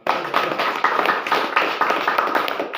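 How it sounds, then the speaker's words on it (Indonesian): An audience at a local gathering applauds after a speech with a burst of dense, close hand clapping. It stays loud and fairly even, with rhythmic surges, for about three seconds before it stops. "kita berikan aplaus dulu"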